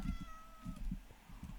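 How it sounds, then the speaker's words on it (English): In a Minecraft horror map set in a mansion, a cat meows in a clear, drawn-out cry followed by softer, fainter mews and low thumps, with no one speaking. "I heard the cat."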